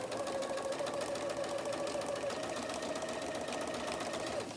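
A sewing machine stitches a quilt in a fast, steady mechanical whir with a faint hum, running continuously and close by with no talking.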